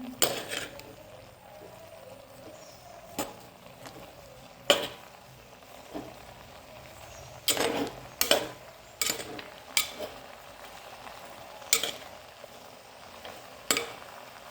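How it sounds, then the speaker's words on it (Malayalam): A spoon stirring avial vegetables with coconut and curry leaves in a cooking pot over a raised flame, giving quiet scrapes and a few sharp clinks against the pot at irregular moments over a soft background. "നന്നായിട്ട് ഇളക്കി യോജിപ്പിക്കണം"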